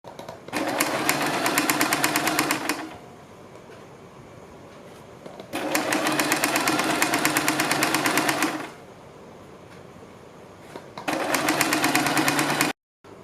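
An electric sewing machine stitches the folded hem of a kurti in three long, steady runs of rapid whirring, with brief pauses between them. It sounds loud and close, and nobody speaks.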